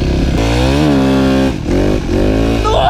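A loud, close Yamaha WR250F dirt bike engine revs up and down in rising and falling whines as it is throttled hard.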